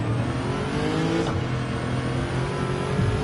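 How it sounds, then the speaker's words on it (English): Car engine in Gran Turismo 7, a Crown with an engine swap, holding a loud steady high-rev drone with a brief surge partway through, continuous and without speech. "there was a sudden surge in the RPMs at the end of that rev range"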